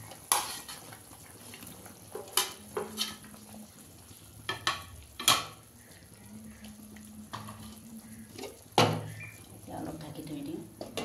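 Paneer goes into simmering vegetables in a pan, with soft sizzling and bubbling underneath and sharp clinks and scrapes of a utensil against the pan at irregular moments, close by, while a voice talks intermittently.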